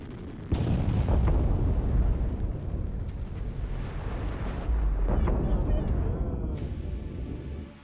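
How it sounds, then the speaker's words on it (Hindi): A missile strikes the ground with a sudden loud blast, followed by a heavy, sustained rumbling roar that slowly tapers off, as purple smoke rises. "जमीन पर टकराते इससे जोरदार धमाका हुआ"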